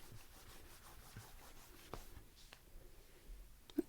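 Soft pen or pencil strokes scratch across paper in a quiet, close setting, with short rubbing marks and small taps, and no voices.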